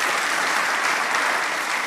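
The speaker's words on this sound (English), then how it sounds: "I don't think the drone deserved your applause, but you're very kind." Audience applause at a tech talk on IoT, Java and autonomous drones, a dense steady wash of clapping holding at even loudness for the whole stretch, with no voices over it.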